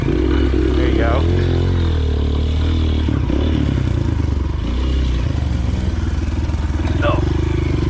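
A Honda CRF230F dirt bike climbing a hill on a forest trail, its engine droning loud and close, with rising revs, clattering over rough ground and faint voices in the background.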